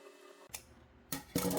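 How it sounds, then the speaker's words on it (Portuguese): Scissors trim leftover swimsuit fabric close to the seam of a plus-size ring swimsuit, giving a few short, crisp snips and then a louder cutting burst near the end. "Agora nós vamos refilar essa parte de tecido que sobrou"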